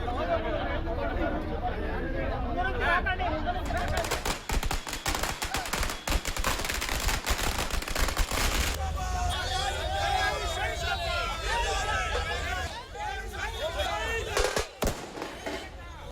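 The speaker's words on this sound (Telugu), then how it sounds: "జేఏసీ శంషాబాద్ బస్టాండ్ వద్ద టపాసులు కాల్చి స్వీట్లు తినిపించుకుంటూ సంబరాలు నిర్వహించుకున్నారు" Firecrackers go off at a celebration near Shamshabad bus stand, starting with a few pops, then bursting in a dense crackling barrage and easing off into scattered bangs. A crowd chatters underneath.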